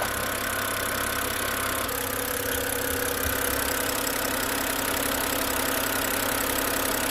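A BMW N52 inline-six with about 350,000 km on it idling close by, a steady, even mechanical hum with a faint ticking texture, loud and continuous with no voices.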